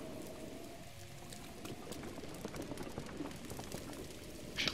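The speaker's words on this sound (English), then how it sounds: "I can't even climb because it's raining." Steady rain patters and hisses across the ground in Zelda: Breath of the Wild, a dense even wash of drops with a faint low tone beneath and a brief brighter splash at the end.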